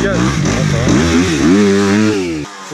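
An enduro dirt bike on a hard enduro trail ride revs loudly with too much throttle, its engine pitch climbing and wavering for a couple of seconds before cutting off abruptly, with voices talking over it.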